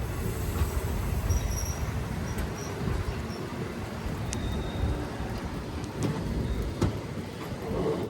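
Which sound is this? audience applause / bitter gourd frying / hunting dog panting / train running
train running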